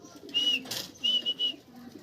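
Racing pigeon returning home during summer training in Taysan, Batangas, giving soft low cooing calls, with several bright whistle-like chirps and a brief burst of wing flutter close by, no talking.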